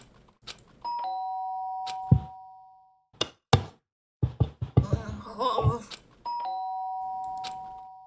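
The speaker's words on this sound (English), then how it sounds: "Sharp sound of the doorbell pierced my sleepy haze and pulled me back to the real world." A two-tone doorbell chime in the video game Danganronpa: Trigger Happy Havoc rings out clearly, sustained tones sounding twice with a gap, while thumps and brief voices or laughter fill the middle.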